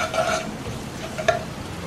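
Garlic and salt fry in a pot as rice is being prepared, with a steady close sizzle and a few short scraping strokes of a spoon. One sharper scrape stands out near the end, and no one talks.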